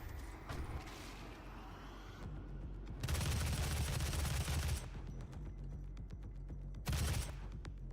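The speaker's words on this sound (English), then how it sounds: "It's a fucking light machine gun." Light machine gun fire in a first-person shooter video game, heard as loud sustained bursts of rapid automatic shots with a shorter burst near the end, separated by quieter stretches of game noise.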